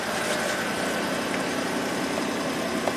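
An electric fuel pump on a Ford with no fuel pressure (fault P0231) runs with the ignition key turned on, giving a steady, even hum with no pauses and no talking.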